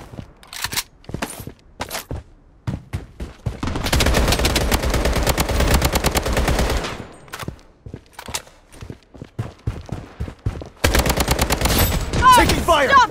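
Bursts of automatic gunfire and single shots from the Blood Strike shooter game, with crisp clustered shots between sustained rattling volleys, loud and close, with occasional footsteps and game announcer calls.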